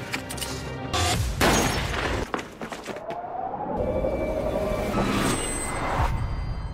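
A sharp blast and glass shattering, followed by crashing debris and another loud burst, dense and close.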